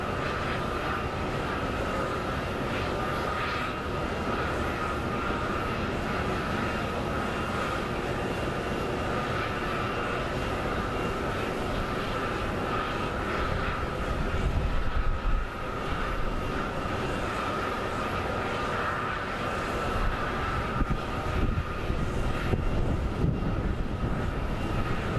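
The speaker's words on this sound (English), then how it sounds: "So it looks like we are going to get a pushback of this aircraft." A CRJ regional jet idles loudly at a gate at Phoenix Sky Harbor ahead of pushback, a constant roaring whine of engines with a steady tonal hum and slight swells in loudness.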